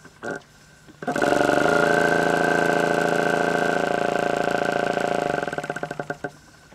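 A small electric pump switched on through a relay module, starting with a click and then running with a steady buzzing hum for several seconds before winding down with fading pulses.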